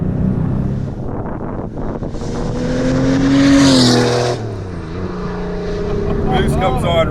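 A 600HP Porsche 964 Turbo accelerates hard as the turbo boost comes on, its engine note rising in pitch through a gear and then dropping at a shift, with wind rush around the mic and a driver's voice in the cabin.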